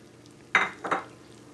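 Chicken cooking in a kadai for Peshawar namkeen, with medium tomatoes tipped into the hot pan: two quick bursts of sizzling and stirring close by, then a fading hiss, with no voices.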